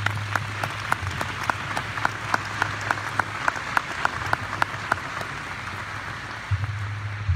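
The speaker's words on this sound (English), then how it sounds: "Round of applause for everybody." Audience applause at a naval air station change of command ceremony, a steady wash of many hands clapping, moderately distant, with a low hum running under it and a few sharper individual claps standing out.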